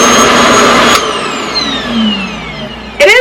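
A Revair hair dryer is switched on with a loud, broad whooshing blow, its motor pitch shifting and falling before surging again near the end.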